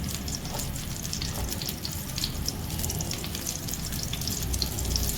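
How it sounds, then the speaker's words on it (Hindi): Garlic sizzles in a pan of oil and melting butter, a steady, crackling hiss that runs without a break and swells slightly toward the end. "थोड़ा सा सौटे करते हैं गार्लिक को"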